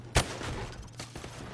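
A single sharp gunshot at a target through plywood in a PS4 shooting game, loud and close, followed by a couple of fainter impact pops against steady background hum.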